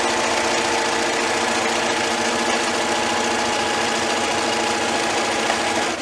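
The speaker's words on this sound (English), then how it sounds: "So I'm gonna just pull my sewing machine up here." A home sewing machine runs steadily, stitching a pajama pants seam forward and then backward; the motor hum is loud, close and continuous with no breaks and no talking.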